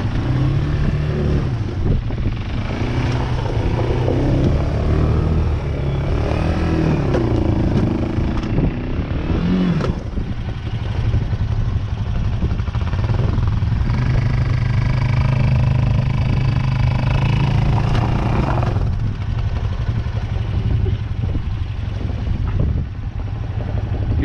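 A Kayo Bull 150 dirt bike engine revs under throttle, a loud continuous motor drone that rises and falls with the gas, with some mechanical clatter.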